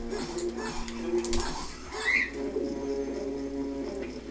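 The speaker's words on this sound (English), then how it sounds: "Hey, bird." A bird coos in the video game Twilight Princess, soft repeated cooing under game music and ambient sounds, with a brief sharper chirp midway.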